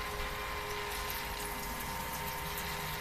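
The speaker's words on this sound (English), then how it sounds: "Some wort flowing." Wort drains steadily from a Brewer's Edge Mash and Boil homebrew system, a constant rushing flow with a faint pump-like hum and no breaks.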